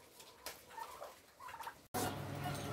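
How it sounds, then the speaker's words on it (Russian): Turkeys gobble in a farmyard in a few short bursts, fairly close, with some general noise between calls, and a loud broadband rumble takes over toward the end. "Индюки съедают все."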